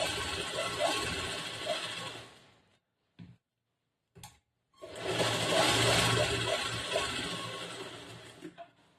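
A sewing machine stitching a blouse cross belt runs in two long close bursts of rapid ticking and whirring, separated by a near-silent pause with a couple of short clicks.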